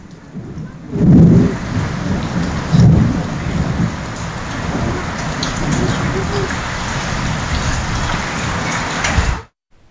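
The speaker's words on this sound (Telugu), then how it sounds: "హైదరాబాద్ లో పలు చోట్ల ఉరుములతో కూడిన వర్షం పడుతోంది." Heavy rain pours steadily with gusty winds in Keesara, Hyderabad, while two deep rumbles of thunder roll through near the start, the downpour continuing loud and even afterward.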